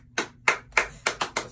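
A few people clapping, about seven sharp, evenly spaced claps in quick succession, close and clear with no talk.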